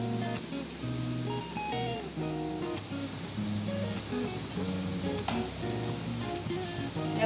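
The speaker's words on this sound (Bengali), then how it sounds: "এখন মাছগুলোকে ভেজে নেব।" Spiced lacho fish pieces fry in a kadai with a steady moderate sizzle, overlaid by a persistent tonal background that sounds like music running throughout.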